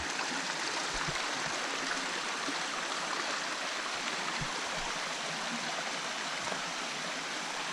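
A forest stream flows steadily, its broad watery hiss constant and moderately close, with occasional low gurgles and no voices.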